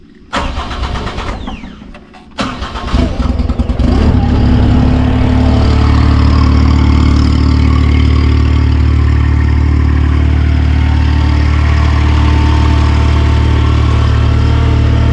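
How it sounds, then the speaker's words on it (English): Ventrac compact tractor engine cranking over a couple of times, then catching and settling into a loud, steady idle heard up close. "Let's start up the Ventrac here."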